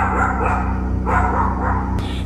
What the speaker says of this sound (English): He likes to bark at the people outside and it's so annoying.